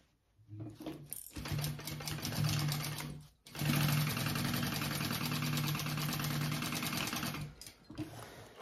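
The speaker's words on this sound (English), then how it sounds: "and I will baste that on" A sewing machine basting the seam of a crossbody bag runs in two bursts of rapid, even stitching with a brief pause between, close and clear, then stops.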